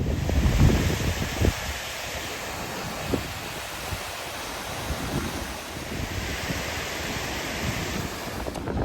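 Water rushes down a moorland clough in steady broadband noise, with wind buffeting the microphone and no voices.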